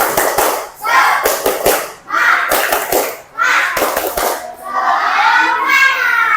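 A classroom of children performs a spirited clapping chant, bursts of rhythmic hand claps alternating with shouted group voices, loud and close, ending in a sustained chorus of cheering.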